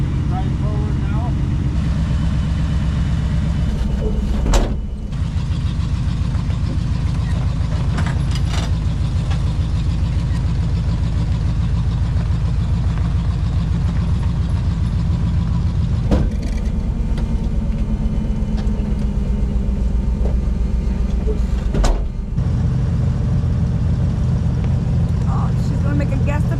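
A vehicle engine running steadily while driving forward during a recovery, a low continuous rumble broken by a few clunks and knocks, with people talking over it.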